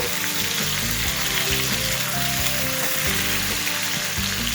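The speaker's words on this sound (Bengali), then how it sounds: "সেই সাথে অ্যাড করে দিচ্ছি টমেটো। এবার মিডিয়াম ফ্লেমে সমস্ত কিছু আবারও একবার ভেজে নেব।" Loud, continuous sizzling of chopped tomato and spices frying in oil over a medium flame, a dense close crackle with occasional stirring and no talk.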